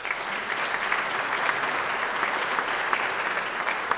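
An audience at a small business recognition awards ceremony claps in a dense, steady round of applause honoring state senators, continuous and fairly loud throughout.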